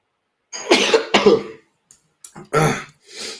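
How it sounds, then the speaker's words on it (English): Someone coughs and clears their throat several times, harsh close-up bursts in two clusters with short pauses between. "Gotta get rid of this cough, man."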